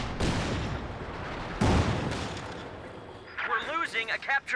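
A Panzer IV tank fires its cannon in the Company of Heroes 2 game: a booming shot with rumbling decay, then a second blast, before a voice talks over the battle noise.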